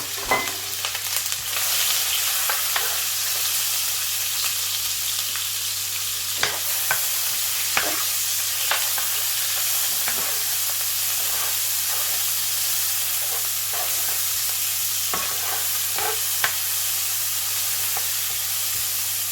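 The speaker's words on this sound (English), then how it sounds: "I will add my onions. I have to add my onions." Onions fry in a little vegetable oil for pasta jollof, a steady close sizzle and hiss broken by scattered scrapes and clicks of stirring that go on throughout.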